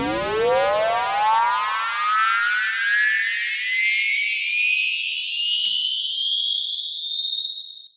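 A synthesized buildup sweep made in Snap Heap: a bright tone rises steadily in pitch over several seconds with a dense buzzy harmonic wash, then levels off high and cuts out abruptly.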